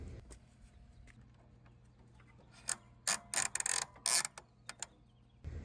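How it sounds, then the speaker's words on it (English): A ratcheting strap is cinched on the front tire cradle of a bike rack with several quick, close ratchet clicks that grow into louder bursts of clicking partway through. The surroundings are otherwise quiet. "there's a ratcheting strap on the front tire to hold it in the front cradle"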